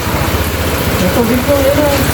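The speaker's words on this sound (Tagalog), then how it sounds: "Titigil din siguro ang ulan." Heavy rain from back-to-back typhoons pours steadily outside a rice shop, a dense, even hiss with faint voices underneath.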